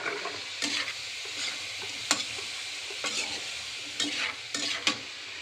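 Pork and liver sizzle in a hot pan for menudo, a steady frying hiss broken by sharp scrapes and clacks of a spatula stirring, close and moderately loud.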